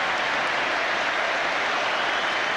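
A stadium crowd at a 1999 Rugby World Cup match between England and Tonga applauds a try with steady, dense clapping that fills the whole moment without a break.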